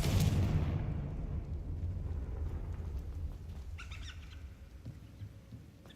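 A Confringo blasting spell from the game Hogwarts Legacy goes off as a single loud, booming explosion. Its deep rumble trails away slowly over several seconds, with no speech heard.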